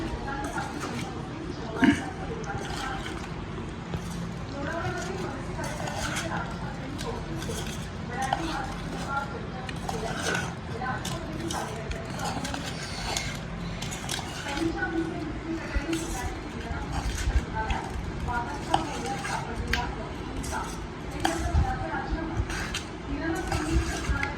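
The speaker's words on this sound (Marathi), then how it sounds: "आता मसाला टाकून घेतो आहे आणि नंतर आता मसाला मिक्स करणार" A spoon stirs spice masala into a pot of conkerberry pickle, giving a steady run of soft scraping and clinking against the vessel, close and moderately quiet, while a person talks over it.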